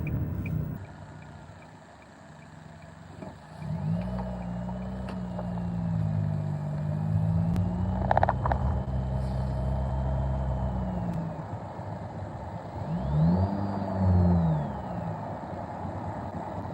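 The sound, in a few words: car driving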